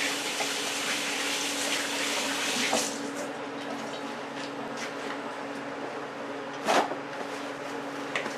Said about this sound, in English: let me rinse this off and let's do it again.